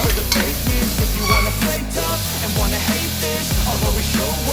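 Onions fry and are stirred in a pan for mutton bhuna masala, a dense sizzle with repeated scraping and knocking from the spoon against the pan, close and continuous throughout.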